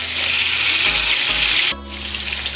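Scallops searing in a hot pan give a loud, steady close-up sizzle that drops briefly, then carries on crackling, with no talking.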